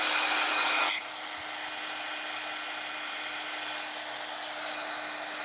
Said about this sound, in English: I'm also going to take my heat tool, my heat gun, and you'll see it move